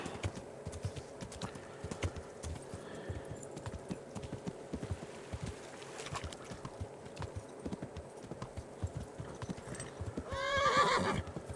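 Horse in the medieval video game Kingdom Come Deliverance, with steady clip-clop hoofbeats throughout and a loud neigh near the end.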